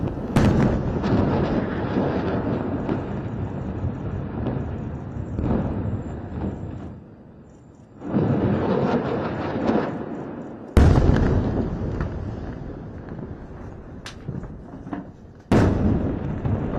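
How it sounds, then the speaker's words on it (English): An airstrike barrage in news footage: loud, sustained rumbling blasts with sharp onsets, several separate explosions that swell and die away, with a brief lull between bursts and no talk. "barrage of airstrikes."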